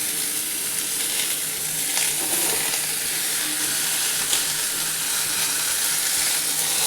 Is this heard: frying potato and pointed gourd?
yes